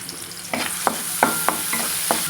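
Onions frying in oil, a constant bright sizzle punctuated by several quick spoon scrapes and taps against the pan.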